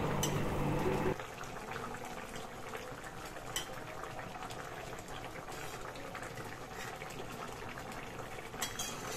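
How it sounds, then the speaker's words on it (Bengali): Bata fish curry with poppy seed paste bubbles in a small wok, a steady close simmering burble with faint pops that continues evenly throughout, with no talking. "আমাদের এখানে তরকারিটা খুব সুন্দর টকবক করে ফুটছে।"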